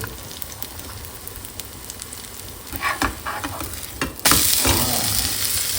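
Tomato omelette batter poured into a hot pan, sizzling quietly at first, then a crackle builds and bursts into a loud, steady hiss of frying that continues to the end.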